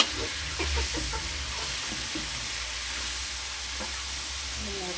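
Shrimp and cauliflower stir-fry in a hot pan with a little sugar, making a constant close sizzle with scattered soft scrapes and clinks of stirring.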